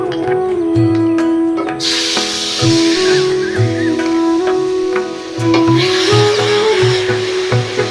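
Ginger, cumin, coriander and green chilli paste sizzles in hot oil in a home kitchen while a fish-head taro greens curry is cooked, a steady close frying hiss with stirring scrapes and clinks throughout.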